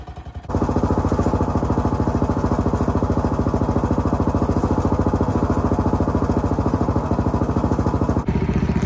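Engine of a very tall, lifted golf cart idles steadily while warming up, a loud, close, even chugging that starts abruptly after a short quiet moment and runs continuously with a fast rhythmic putter.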